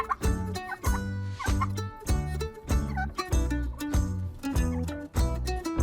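Repeated loud gobbling calls in a rhythmic, pulsing series sound close by and fill the whole stretch without any voices, with a big turkey clearly the source.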